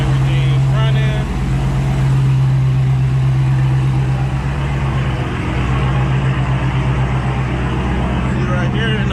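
A Dodge Challenger Scat Pack V8 fitted with an E85 kit idles close by, low on fuel, giving a steady loud rumble with a strong hum and a faint voice underneath.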